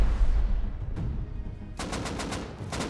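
AK rifle fire during a snowy base raid in the video game Rust, with a rapid burst of close automatic shots after a quieter stretch, then a second volley near the end over constant battle rumble.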